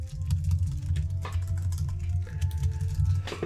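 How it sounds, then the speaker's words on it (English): Rapid, irregular keystrokes on a computer keyboard during an online Dungeons & Dragons session, fairly faint and set over a steady low hum, with no talk in between. "Sorry, I was typing something."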